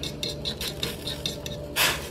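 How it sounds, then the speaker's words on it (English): A utensil stirs and shifts longanisa sausages around in a frying pan, making soft clinks and scrapes against the metal in a loose rhythm, closing with a brighter, louder scrape. "Make sure you move the sausages around so it doesn't stick to the pan."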